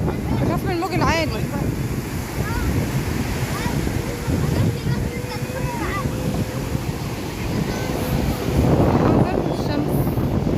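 High sea waves wash onto a beach beside rocks in a steady, roaring surf, with wind buffeting the microphone and people talking over it.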